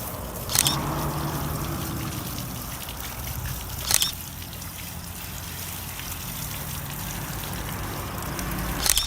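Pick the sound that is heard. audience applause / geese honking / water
water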